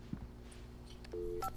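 A telephone is being dialed in the Alan Wake video game, with a quick pair of dial tones near the end over a low, quiet ambient hum.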